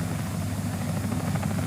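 Helicopter flying for TV news work, its rotor throbbing as a steady, fairly loud drone throughout a short stretch.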